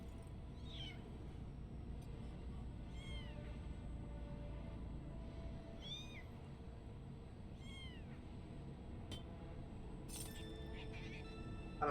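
Cat meowing in the video game ANNO: Mutationem, several short mewing calls spaced across the clip over a steady game ambience, ending with a brief clink.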